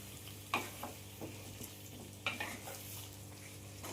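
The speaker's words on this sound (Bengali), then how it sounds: "এবার আমি চিকেনটাকে ভালো করে ভেজে নেব।" Chicken for Mughlai chicken frying in a pan over medium heat: a steady close sizzle with scraping stirs, the two sharpest near the start and middle.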